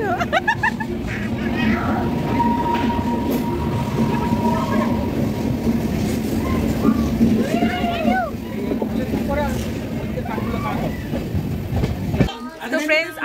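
Inside a moving passenger train, a continuous rumble and rhythmic wheel clatter run loud and close, while voices chatter over the noise until it cuts off near the end.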